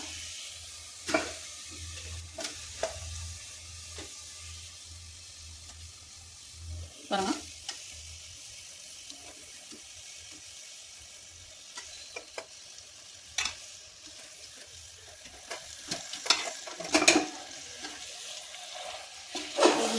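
A spoon stirs and scrapes chicken pieces around a hot pot of chicken biryani made with seeraga samba rice. Soft sizzling hisses underneath, broken by irregular clinks and scrapes that grow busier toward the end.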